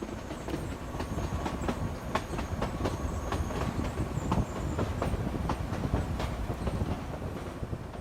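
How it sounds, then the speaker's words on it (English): A train runs from Ollantaytambo toward Machu Picchu and crosses a metal bridge by the Inca Trail, with a steady rumble and regular clickety-clack of the wheels on the rails, heard from inside at moderate level. "The train passes part of the Inca Trail at a bridge crossing."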